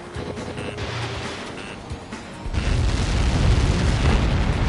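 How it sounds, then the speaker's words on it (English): A heavy explosion in the combat flight game Ace Combat 7 erupts as a deep sustained boom, rising from a lower rumble into a loud, broad roar that holds to the end. "How many got caught in that explosion?"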